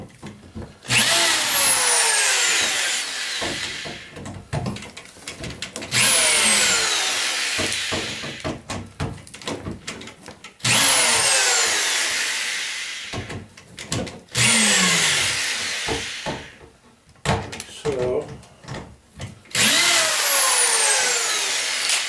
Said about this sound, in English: all I got to do is just unscrew these